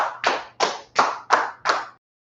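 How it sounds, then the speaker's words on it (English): Five loud, evenly spaced group claps at a religious online class, each sharp burst fading quickly before the next, ending in silence. "All right, clap it up."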